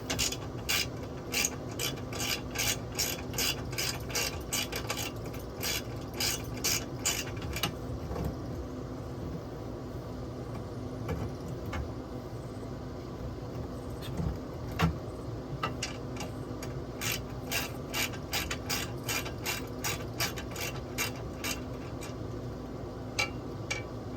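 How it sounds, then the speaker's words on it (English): A hand ratchet removes the last nut from a bolt on a TV mount inside a 2021 Winnebago Travato built on a RAM Promaster van. Rapid, close clicking comes in repeated bursts, with quieter turning and rubbing between them. "I'm going to take this last nut off."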